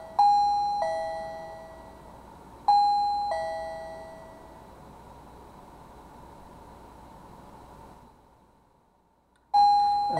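A SECRUI wireless doorbell chime rings twice close by, each bright ding-dong decaying slowly, and a third chime starts after a quiet pause; no one talks.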